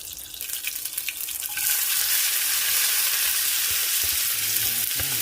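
Eggs and tomato hitting hot oil in a pan: quiet handling noise at first, then a loud, steady close sizzle that swells suddenly and stays strong to the end.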